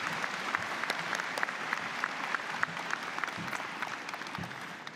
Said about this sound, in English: please join me in a round of applause for MRU's tremendous faculty